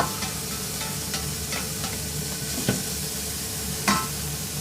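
Vegetables cooking in a pan hiss with a steady, even sizzle, broken by a couple of brief scraping knocks from a utensil, close and continuous without speech.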